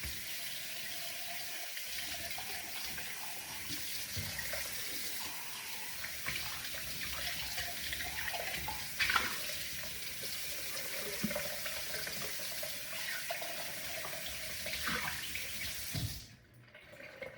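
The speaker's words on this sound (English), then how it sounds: "Did you just wash that out in the sink?" Water runs steadily from a sink tap while a jar is rinsed out after mixing sourdough starter, a continuous close splashing hiss that cuts off sharply near the end.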